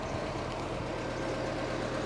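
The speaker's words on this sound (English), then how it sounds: "Whilst the lorry is just trying to squeeze through there." Steady low engine drone from a Morrison's lorry edging out of a tight spot on a residential street, constant and moderately distant with no voices over it.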